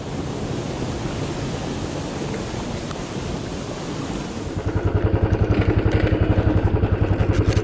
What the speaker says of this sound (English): So that is the waterfalls.